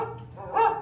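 Dog barking in a household scene of the Carousel of Progress show: a single short bark or yip, fairly close and clear, with a faint background hum.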